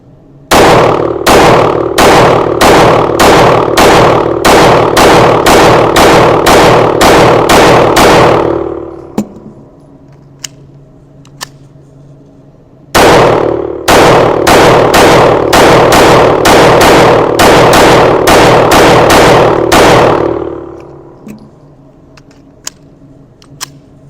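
Palmetto State Armory Micro Dagger pistol firing 115 grain rounds in two fast strings of close, loud shots, each volley about a dozen rapid reports, separated by a short pause with faint clicks and handling noise.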